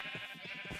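Short sheep bleats from Minecraft sheep being sheared, a few soft game-style baas repeating close together over a steady background hum.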